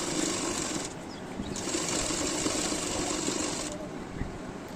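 An electric sewing machine stitches lace trim onto a kurti, running in a steady, close, continuous whir with a brief pause and change in pitch partway through, and no talking.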